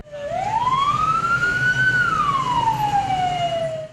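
Ambulance siren in city traffic, a loud close wail that rises slowly, holds and falls again, over a low engine rumble.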